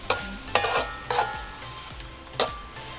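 Masala frying for a Kerala-style mutton curry on a wood stove, with a soft sizzle under repeated scraping stirs that come roughly every half second, close and fairly quiet, no talk.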